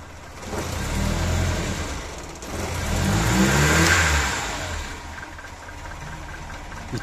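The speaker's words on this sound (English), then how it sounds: "if you try to rev the engine," A cold Mercedes-Benz M102 car engine revs up twice in rough, uneven surges, stuttering and knocking rather than climbing smoothly, then drops back to a shaky idle.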